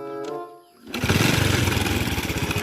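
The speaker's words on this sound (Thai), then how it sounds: "เสียงเครื่องก็จะประมาณนี้นะครับ" A small engine sputters briefly, then catches and runs with a loud, rapid, chugging putter that stays steady and close.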